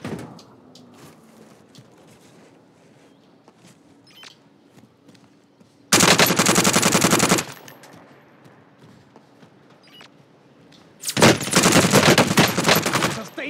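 Two long bursts of sustained automatic machine gun fire in the video game Warzone, loud and close, each lasting about one and a half to two seconds, separated by quieter ambient game noise and faint background sounds.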